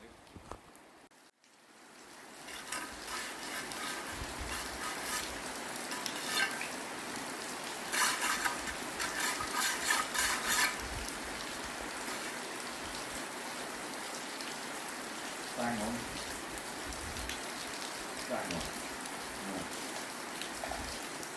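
Heavy rain pours steadily on an old barn, a dense hiss of drops drumming on surfaces, with a few louder patters along the way.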